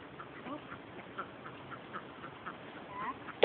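Ducks quack in a busy, overlapping chorus at moderate distance, with a steady murmur of calls throughout.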